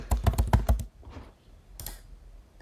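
Several quick keystrokes tapped on a computer keyboard, a burst of clicks in the first second followed by quieter faint noises, close and alone.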